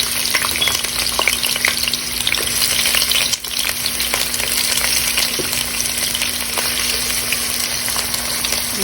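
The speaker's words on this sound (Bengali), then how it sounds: "একটু ভাজা ভাজা হোক।" Red and white onions fry in a pan with a loud, steady, close sizzle and crackle that runs without a break, with faint stirring scrapes and no talk.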